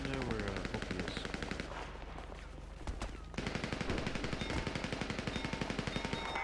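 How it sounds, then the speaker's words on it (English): Rapid automatic gunfire in a video game roleplay raid, dense loud bursts of shots nearly continuous, dipping briefly midway before resuming, with faint voices in the mix. "Whoever is shooting, just stop."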